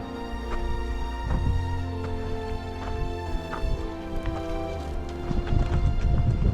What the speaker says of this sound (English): I just got passed by a bull or a mule, or sorry, donkey.